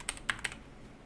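Three quick, light keystrokes click on a computer keyboard while typing into the Windows search box, soft and close with short gaps between taps.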